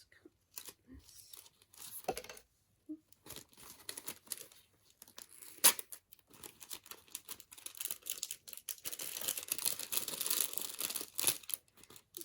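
Packaging of a merchandise haul is cut and torn open close up, with scattered crinkles and rips that build into a denser, continuous tearing and crumpling toward the end, fairly quiet overall.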